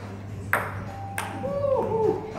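Two sharp, bright clicks of a ping pong ball struck during a casual table tennis game, about half a second apart, followed by a voice speaking in the background.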